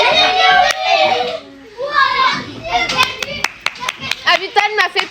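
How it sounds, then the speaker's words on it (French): Children clap hands together in a brief burst of sharp, uneven claps at the end of a game, following stretches of chatty kid voices talking. "Avital m'a fait perdre, alors on applaudit Avital."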